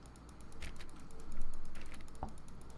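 Repeated clicking from The Stanley Parable's broom closet, a steady run of small, dry, keyboard-like clicks with one sharper click near the end, fairly quiet and with no talk.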